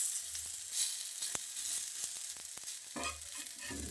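Raw banana slices frying in oil on a tawa, a soft, steady sizzle with faint clicks and scrapes of a utensil turning the pieces, no voices.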